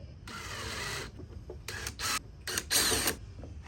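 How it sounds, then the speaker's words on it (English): A drill countersinks a hole in a plastic panel during a table-saw router table build, sounding in several short whirring bursts of varying length, close up with no speech. "Now I'm gonna countersink this end here."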